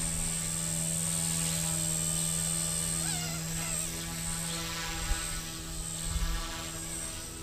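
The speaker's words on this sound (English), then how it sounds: "So you can see I move my sticks and my heli moves now." A Blade 150s radio-controlled helicopter flies in a yard, its steady high whine and rotor buzz holding continuously throughout, with a few brief bumps in level near the end.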